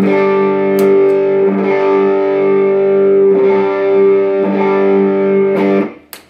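An electric guitar rings out through gritty overdrive, sustaining thick distorted chords and notes with a few strums, then cutting off with small clicks.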